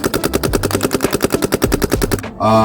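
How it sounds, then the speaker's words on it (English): A DLX Luxe TM40 paintball marker firing a rapid, even burst of about two dozen crisp pops in just over two seconds, loud and close, then stopping abruptly. "the TM40 does shoot very nice. It's like a crisp sort of pop."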